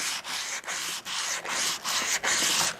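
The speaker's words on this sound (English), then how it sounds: "let me just take a little bit of sandpaper to this maybe" Sandpaper rubs over the gasket surface of a Troy-Bilt Horse tiller's tine seal housing in about six quick, even back-and-forth strokes, each separated by a short pause, close and fairly quiet, with no talking.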